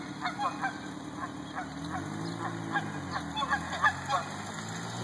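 Several Canada geese honk repeatedly in an irregular chorus, moderately near, over a low steady engine-like hum, in rain.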